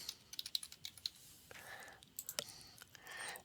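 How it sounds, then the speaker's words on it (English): A computer keyboard clatters as a username is typed, a run of light, fast, close keystrokes with a few louder clicks, faint and uneven in rhythm with no one speaking. "I'm going to type in the student's username"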